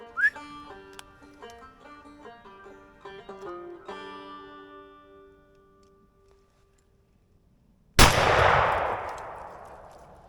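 A single loud, sharp firearm shot from a deer hunt during Illinois firearm season cracks out after several seconds of soft ringing tones, then its echo decays over a couple of seconds, no voices.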